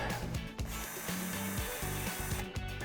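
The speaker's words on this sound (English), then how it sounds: "Spin my drill off" An electric drill with a mixing paddle whirs steadily while mixing epoxy for a floor coating, its pitch stepping up and down in short bursts, with some scraping and rubbing noise at close range.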